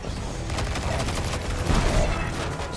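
Turret gunfire in the video game Destiny 2: Lightfall, a dense continuous barrage of rapid shots and booms, loud and unbroken throughout.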